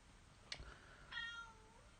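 A house cat gives a short meow, then a longer drawn-out one, both faint and at a distance over a quiet hiss of room noise, with no talking.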